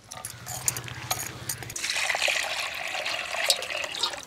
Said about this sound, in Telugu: నత్తలు జిగురుంటాయి కాబట్టి ఒకటికి నాలుగు సార్లు శుభ్రంగా తోముకోవాలి.